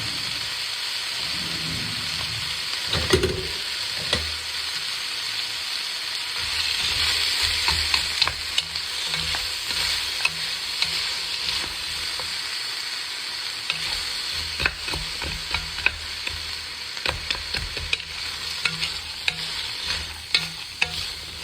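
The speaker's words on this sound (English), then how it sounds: "So we're going to cook these until they get nice and soft" Onions and peppers fry in a pan, a steady hissing sizzle running throughout, punctuated by frequent clicks and scrapes of stirring, close and fairly loud with no talking.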